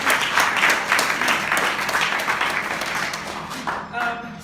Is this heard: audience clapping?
yes